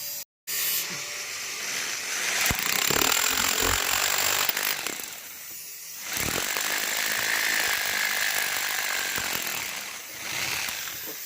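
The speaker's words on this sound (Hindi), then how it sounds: "तो ये हमारा ड्रिलिंग हो गया कंप्लीट।" Power drill boring holes for fasteners while a DDC electrical panel is installed, with two long, loud whining bursts separated by a brief dip, close and harsh against faint clattering.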